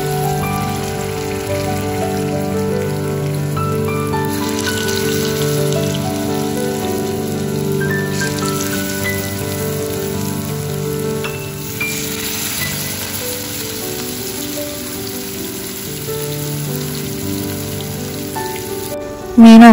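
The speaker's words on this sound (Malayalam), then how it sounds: "അപ്പോൾ നെക്സ്റ്റ് നമുക്ക് മീൻ ഫ്രൈ ചെയ്തെടുക്കാം." Fish frying in a pan gives a steady, close sizzle with constant crackling that runs unbroken for about twenty seconds, with no talking.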